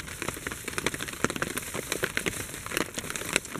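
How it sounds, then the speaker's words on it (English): Heavy rain falls on an overnight bushcraft shelter camp in the woods, a dense, steady patter of drops with scattered louder taps and crackles, continuous and close, with no voices. "Unfortunately still raining"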